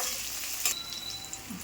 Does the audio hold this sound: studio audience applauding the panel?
no